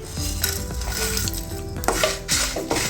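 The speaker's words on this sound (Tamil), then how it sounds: "இப்போ இது எல்லாத்தையுமே ஒட்டுக்க போட்டு வறுத்துக்கலாம்" Coriander and fennel seeds dry roast in a pan while a metal spoon stirs them, giving continuous scraping and clinking with a faint crackle, loud and close.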